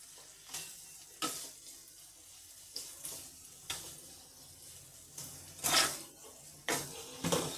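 Pre-boiled carrot and beetroot being fried in a pan, with intermittent scraping stirs and short bursts of sizzle spaced a second or so apart over a quiet background.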